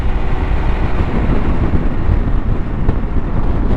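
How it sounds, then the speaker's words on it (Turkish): A Yamaha X-Max scooter runs at top speed, around 140 km/h, with heavy, steady wind roaring over the microphone and masking a low engine drone. "X-Max'le bir de top speed yapalım size arkadaşlar"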